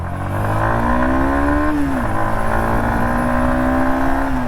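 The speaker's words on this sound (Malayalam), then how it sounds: "ഇത് തേർഡ് ഗിയറിലാണ് ഇത്ര സ്മൂത്ത് ആയിട്ട് ശരിക്കും കയറിക്കൊണ്ടിരിക്കുന്നത്" A Yamaha XSR 155 motorcycle engine pulls smoothly in third gear, a loud, steady close-up drone whose pitch rises gradually, dips for a moment, then climbs again.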